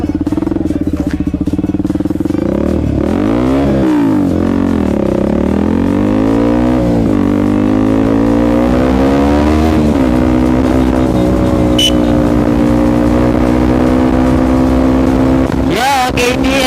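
A KTM RC 200 motorcycle fitted with a silencer is revved hard and close, its engine note rising and falling in repeated sweeps over a steady loud drone.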